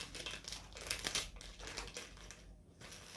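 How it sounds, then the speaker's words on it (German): Plastic bag crinkling during assembly of a Lego Disney 100 camera set, a steady rustle of rapid crinkles and crackles that swells and fades, close and fairly loud, with no talking. "jetzt brauche ich doch die Tüte"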